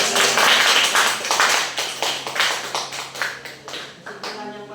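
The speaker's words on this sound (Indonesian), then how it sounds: "mari tepuk tangan untuk" Students in a guidance and counseling class clap together, a scattered run of sharp hand claps close by that fades over a few seconds.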